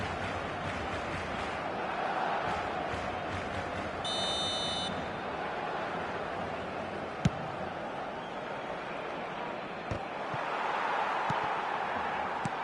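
A stadium crowd murmurs steadily in eFootball on PS5, a broad distant roar that swells slightly, with a short electronic buzzer tone and a couple of sharp kicks or thuds.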